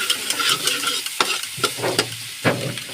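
An egg fries in an earthen clay pan, a close, bright sizzle punctuated by sharp scraping strokes from a spatula at irregular intervals.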